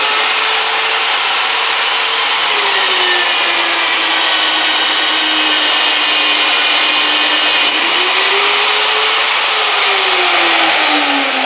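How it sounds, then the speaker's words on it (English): An Alfra SP magnetic drill bores through 3/16-inch-wall 2-inch square steel tube, a loud continuous motor whine with shifting pitch as the cutter loads and eases, plus steady grinding of metal cutting, running throughout with no talk. "simply turn it on, and let's go ahead and drill it."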